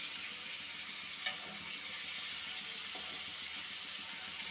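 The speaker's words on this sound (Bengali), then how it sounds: "আমরা পটলগুলো ভেজে পটল ভাজা তেলের ভিতরে চিংড়ি মাছগুলো ভেজে নিচ্ছি।" Prawns frying in oil that was already used to fry pointed gourd make a quiet, steady sizzle close by, with one brief sharp pop near the start and no talking.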